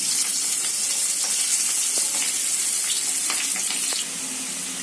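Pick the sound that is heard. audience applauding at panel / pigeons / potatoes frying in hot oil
potatoes frying in hot oil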